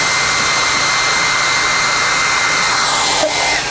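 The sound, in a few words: hair dryer blowing air between two softballs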